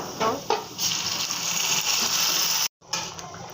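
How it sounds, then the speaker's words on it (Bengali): Panch phoron spices frying in a pan give a steady crackling sizzle, broken by a few stirring clatters and one brief silent gap before the sizzle returns. "পাঁচফোড়নটা ভেজে আমি"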